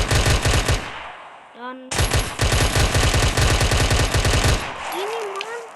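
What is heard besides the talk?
Glock 18 gun firing in a video game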